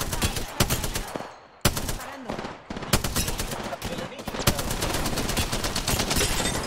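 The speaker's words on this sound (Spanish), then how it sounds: "me dispara a otra persona desde arriba" Rapid gunfire in the battle royale game Apex Legends, with dense bursts of automatic shots cracking in quick succession, broken by a few short pauses, loud and close throughout, with faint voices underneath.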